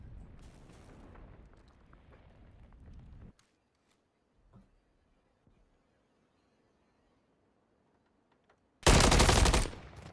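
Automatic gunfire in a competitive Call of Duty match: a dense rattle early on fades to near silence with a few faint pops, then a loud close burst erupts at the end.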